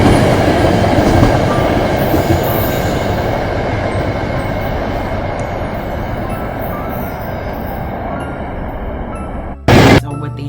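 Trains in New York roll past in a long, loud, steady rumble of rail cars with a clattering wheel rhythm, ending with a brief bright screech near the end.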